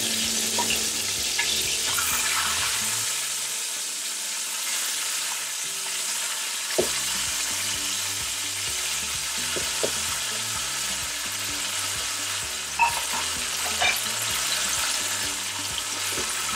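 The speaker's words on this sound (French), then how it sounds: "Je dépose la viande tout de suite pour que ça puisse cuire en même temps que l'oignon." Meat frying with onion in a pan over maximum heat, a dense continuous hiss and sizzle throughout with a few faint utensil knocks, no talk.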